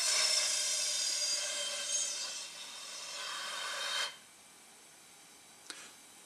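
Air rushes out of balloons through tubes of different diameters in a steady, moderately loud hiss that fades around four seconds, followed by near silence and one faint short puff.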